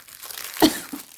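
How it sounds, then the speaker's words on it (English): A plastic sheet crinkles as it is pulled off a book, a brief close rustle peaking in one sharp crackle. "if I remove this plastic sheet, then it's packed like this."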